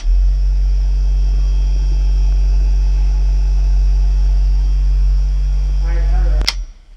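An electric pump draws out differential fluid, holding a loud, constant mains-like hum for several seconds before it cuts off with a sharp click and the sound dies away.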